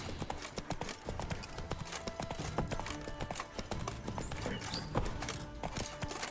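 Hoofbeats of Roach, the horse in The Witcher 3: Wild Hunt, clip-clopping in a steady running rhythm throughout, layered over busy game music and ambient effects, with an occasional faint whinny.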